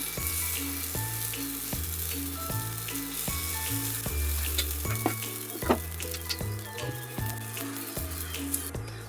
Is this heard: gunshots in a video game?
no